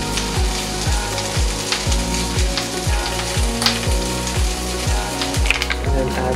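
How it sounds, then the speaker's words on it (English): Garlic sizzles and fries in a pan, a dense crackling hiss with rhythmic scraping strokes as it is stirred, close and steady. "Throw our garlic in."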